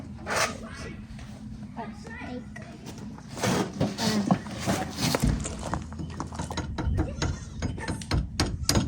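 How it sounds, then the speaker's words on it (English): A steel jaw trap for farm predators is tapped and set, giving a few sharp mechanical clicks and rattles amid rustling, with people talking nearby. "Just tap it so you hear the click."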